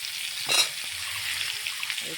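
Food frying in hot oil in a pan gives a steady hiss lasting the whole moment, with a brief louder burst near the start and a few soft scrapes.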